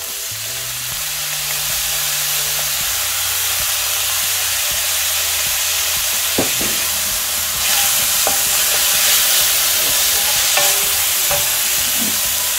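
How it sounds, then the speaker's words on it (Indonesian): Stir-fried bok choy sizzling in a pan over medium heat as a splash of soy sauce goes in, a loud steady frying hiss that swells briefly with a burst of spatter, spatula scrapes scattered through, no talk. "Nah, lalu kita masukkan sedikit kecap."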